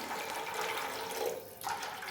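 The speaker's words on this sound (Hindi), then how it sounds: "और अब मैं करूँगी इसमें पानी ऐड" Water is poured into a pot for Lahori chana, a continuous splashing, gurgling stream close by that briefly thins near the end before resuming, with no talk over it.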